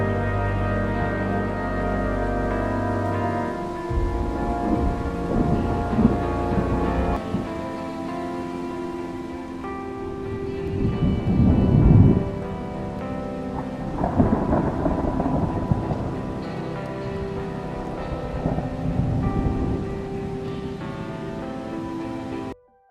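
A violent overnight thunderstorm over Britain brings repeated deep thunder rumbles that swell and fade over steady heavy rain, loud and continuous with no voices.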